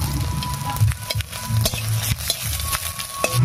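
Dry red chilli, five-spice and crushed ginger fry in hot mustard oil in a kadai, a steady close sizzle with repeated scraping stir strokes and light clinks of a utensil throughout.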